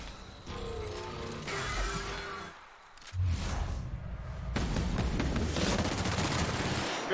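Gunfire in the video game The Outer Worlds: bursts of rapid shots and crackling impacts, pausing with a brief lull before heavier, denser fire resumes near and loud.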